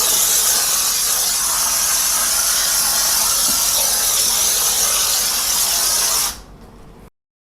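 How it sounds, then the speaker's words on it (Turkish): A Karcher SC3 Anniversary steam cleaner blasts steam onto a toilet, a loud, steady broadband hiss held for about six seconds before cutting off abruptly. "Üst kısmını da şimdi buhar verelim."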